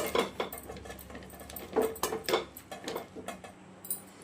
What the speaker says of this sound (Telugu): దీన్ని మెత్తగా మెదుపుకుందాము